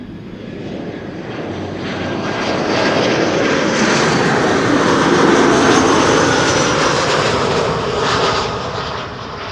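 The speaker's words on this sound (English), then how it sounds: "EasyJet A319 arriving from London Luton" An EasyJet Airbus A319 jet arrives from London Luton at Schiphol Airport, its engine roar swelling loudly and broadly, peaking midway, then easing slightly as it passes close overhead, with no voices.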